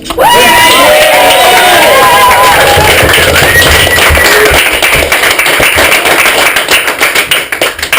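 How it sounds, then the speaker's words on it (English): Wedding guests give a loud round of applause that fills the room, with cheering voices mixed in and the clapping thinning toward the end. "Round of applause."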